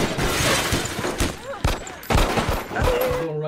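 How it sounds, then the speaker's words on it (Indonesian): Rapid bursts of gunfire crackle through a chaotic film shootout at a house, loud and dense, with bangs and shattering hits layered over a busy soundtrack. "Baku tembak pun terjadi, menimbulkan kekacauan yang sangat besar"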